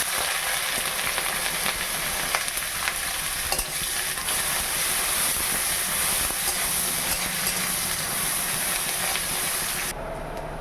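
Dried red chillies and onion frying in hot oil make a loud, dense, continuous hiss and sizzle close up, with occasional stirring scrapes throughout and no voices.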